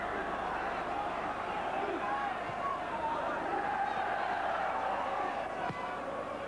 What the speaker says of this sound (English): So the Villa crowd really roaring now